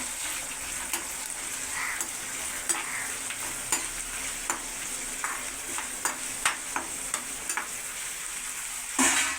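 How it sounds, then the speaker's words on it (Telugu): Onions sizzle steadily in a pan while a spoon stirs them, sharp scraping clicks landing every half second or so over a continuous close frying hiss, with a louder scrape at the end. "ఈ ఫ్రై అయ్యే వరకు తిప్పుకున్నాం"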